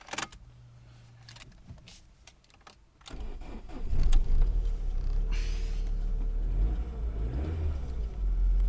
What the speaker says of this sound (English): Well, it starts and it revs